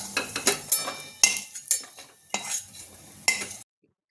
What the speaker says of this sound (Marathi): हे बघा, आता मी अक्रोड काढून घेते